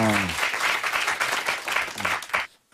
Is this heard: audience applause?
yes